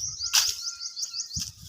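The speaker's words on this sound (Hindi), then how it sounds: "कोई चिड़िया वगैरह थी, बुलबुल है" A bulbul chirps near its nest at a house, giving a run of quick, high, repeated tweets that carry on steadily through the moment, with a few soft low thuds underneath.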